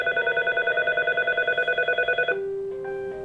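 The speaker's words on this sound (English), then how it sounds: "so it's ringing my extension" A phone line rings a user's extension on a FreePBX call queue, a rapid pulsing ring tone repeating for about two seconds before cutting to a steady lower tone.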